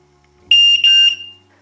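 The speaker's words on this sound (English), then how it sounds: "Activate the smoke detector by pressing the test button until it beeps" A smoke detector sounds its test alarm: two loud, shrill electronic beeps in quick succession, close by and alone, the second running slightly longer.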